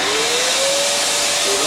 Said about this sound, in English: Your sucking off machine's got an external plug in it, Doug.